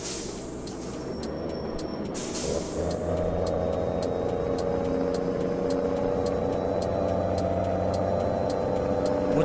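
A heavy rodotrem road-train truck in Heavy Truck Simulator accelerates on the road to Vitória da Conquista, its loud, close engine droning steadily with a low rumble and a rising hum, after a brief hiss near the start.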